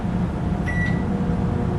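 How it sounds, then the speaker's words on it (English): Microwave oven running to melt chocolate, a steady close hum with a brief faint high beep partway through. "So the first thing I'm going to do is melt my chocolate in the microwave."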